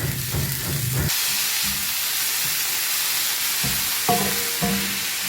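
Chopped onion and garlic fry in a pan with a steady, loud hiss and sizzle, broken by a few duller thumps and clatters near the start and end.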